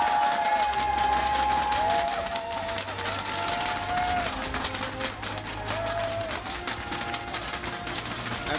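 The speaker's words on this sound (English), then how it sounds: "I know you just gave him a round of applause, but give him another one." Sustained crowd applause and cheering at the Clash Royale Crown Championship EU Fall 2017 Finals, a dense wash of clapping with whoops over a busy, loud hall.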